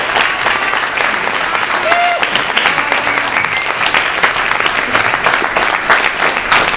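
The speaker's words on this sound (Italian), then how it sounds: "Un applauso per Annalisa." Applause from an audience at a presentation event in Pescara, a dense, steady wash of clapping that fills the whole stretch without letup.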